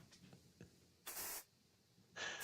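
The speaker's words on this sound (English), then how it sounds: "I was using what's called atmosphere aerosol." Aerosol haze spray released indoors in two hissing bursts, the first about a third of a second long and the second starting near the end, fairly loud against a quiet room.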